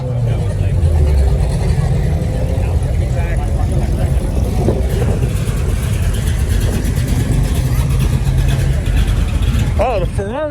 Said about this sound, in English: Ferrari's leaving